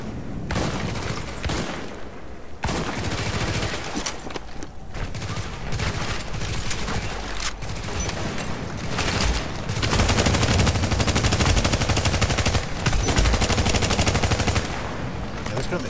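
Loud video game gunfire goes nearly nonstop in rapid automatic bursts, with booming hits and shifting weapon sounds filling the whole stretch.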